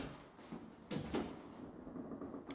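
Interior doors in a new two-level apartment in Alanya, Turkey, opening and closing: a few soft knocks and a slightly louder thud, quiet and close in an otherwise still room.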